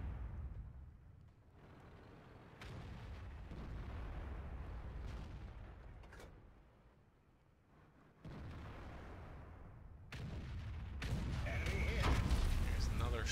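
Several heavy booming tank cannon shots from an FV4005 Stage II tank destroyer in World of Tanks, loud and rumbling with long decays, spaced across the clip amid continuous battle noise and a voice talking over it.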